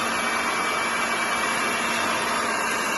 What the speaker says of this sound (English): You're going to hold the handle here and run the mixer.